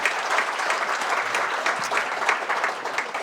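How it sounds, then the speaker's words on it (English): A crowd claps in steady, lively applause for a few seconds, a dense patter of hands filling the room with no voices above it. "Give him a round of applause."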